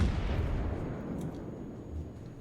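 The battleship Soyuz fires its main guns in World of Warships, one heavy, close booming salvo followed by a long rumbling decay of about two seconds.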